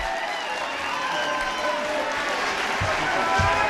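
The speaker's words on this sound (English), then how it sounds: "Now you can applaud" Audience applause fills a Senate candidates' debate hall at the Student Union on the Montana State University campus in Bozeman, a steady broadband wash of clapping from a crowd with a few louder thumps near the end.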